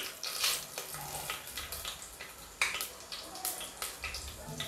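Whole spices (black cardamom, cinnamon, bay leaf and cumin) hitting hot oil for a vegetable biryani, giving a steady close crackling sizzle with sharper pops and stirring scrapes throughout, no voices.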